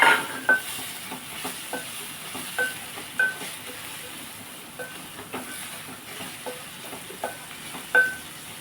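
Eggs frying in a pan with chili powder, a faint background sizzle broken by sharp clicks and scrapes of stirring, close and fairly quiet.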